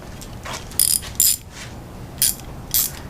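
A small hand ratchet works a spark plug on a 2013 Mercury 250 Pro XS outboard, giving a few sharp, bright clicking bursts spaced irregularly over a faint background hiss, close and distinct.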